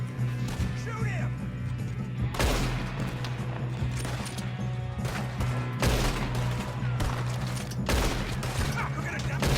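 Gunfire in Red Dead Redemption 2 during a mission shootout, repeated loud shots and bursts cracking every couple of seconds over a constant hum, with voices talking between the shots.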